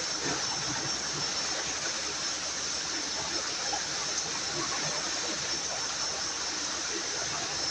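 A clean countryside river runs steadily through the whole stretch, a continuous rushing wash of water over rocks with no breaks, close and even in level.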